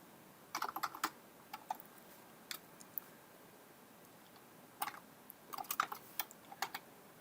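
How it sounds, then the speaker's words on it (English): Bursts of computer keyboard typing, quick clustered keystrokes in two runs separated by a quieter pause with a few isolated taps, close and fairly soft. "if I start typing in my home address"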